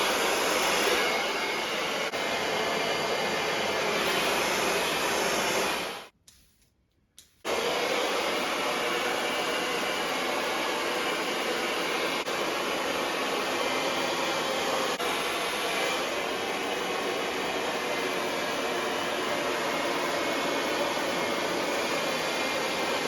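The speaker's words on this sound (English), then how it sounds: "Now I'll be turning my hair upside down for blow drying." A handheld hair dryer blowing on fine hair flipped upside down, a loud continuous rushing whir with a faint high whine, cutting out briefly for about a second before resuming steadily.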